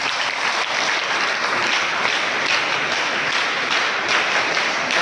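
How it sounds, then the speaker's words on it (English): Steady, full applause from students and staff at a school superannuation function honouring a retiring Telugu teacher. The close, continuous clapping stays at an even level throughout with no speech over it. "Let us congratulate with him with your claps."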